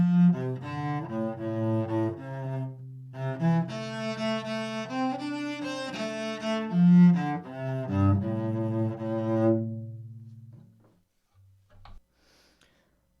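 A solo cello plays the Ships of Ireland tune, with clear sustained bowed notes in a flowing eighth-and-quarter rhythm that ends in a short pause and a faint knock.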